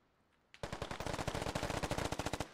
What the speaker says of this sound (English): Sledby, he's putting down some fire towards Efank and Flicker trying to breach his wall